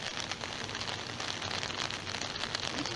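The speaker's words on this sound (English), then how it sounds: "It's really raining." Steady rain pours outdoors over a front lawn, a dense continuous hiss and patter throughout without any talking.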